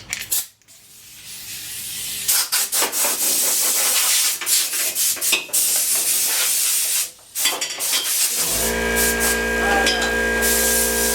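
Compressed air blasts dust out of a towel rack motor assembly in loud, hissing bursts with brief pauses, ending in a steady mechanical hum.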